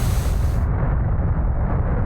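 A car slams into an obstacle at about 250 in a damage test, giving a loud, heavy, bass-rich crash that fills the whole short moment and is heard up close.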